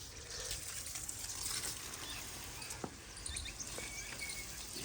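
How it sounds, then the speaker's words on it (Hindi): Water splashing and trickling onto vegetable plants in a village garden in Pakistan during the rainy season, a steady close wash of liquid with faint birds in the background and no talk. "ज़्यादा पानी भी नहीं लगाना सब्ज़ी को।"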